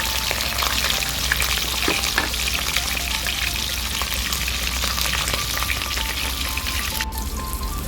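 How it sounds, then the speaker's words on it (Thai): Mackerel fries in hot oil with a steady, dense crackling sizzle that holds loud and close from start to end, with scattered pops and spits. "เราก็เอาปลาทูลงไปเลยค่ะ ดให้เหลืองทั้งสองด้านเลยนะคะ"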